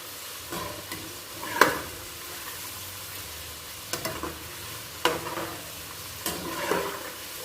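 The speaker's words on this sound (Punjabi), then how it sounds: "ਫਰਾਈ ਹੋਣ ਲੱਗ ਪਈ ਆ ਅਜੇ ਥੋੜੀ ਜਿਹੀ ਕਸਰ ਆ" Taro root (arbi) fries in a pan with a low steady sizzle, broken by several sharp scraping stirs spread through the clip, with no one talking.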